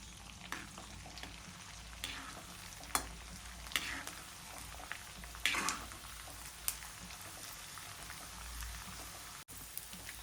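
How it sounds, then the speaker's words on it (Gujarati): Soft frying crackle of edible gum in hot ghee with scattered sharp pops and spits, quiet overall with a few louder bursts. "આપણે થોડો થોડો ગુંદ એડ કરીશું અને તેને તળી લઈશું"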